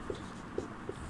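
A pen writing an answer on paper during a Sanskrit lesson, three soft scratchy strokes spaced apart over a low background hiss, close but faint.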